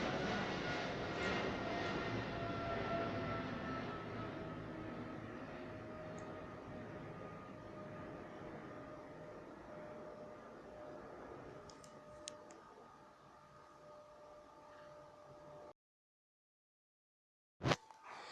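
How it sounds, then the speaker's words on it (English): An airplane passes overhead, a broad, steady engine roar that slowly fades over about fifteen seconds before cutting out, followed by a brief sharp knock. "Sorry, another plane is passing."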